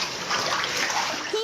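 Water leaking into a street and splashing: a steady, dense rush of spattering water, loud and close, running without pause through the whole moment.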